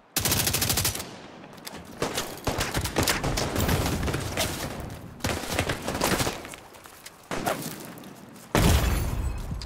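A mounted gun fires in The Division 2 in long, loud, rapid automatic bursts. Short gaps break up the bursts, and a final heavy volley comes at the end.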